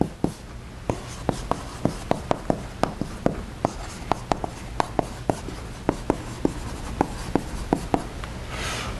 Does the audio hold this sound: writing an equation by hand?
yes